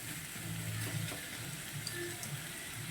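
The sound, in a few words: tomatoes and onions sautéing in a pan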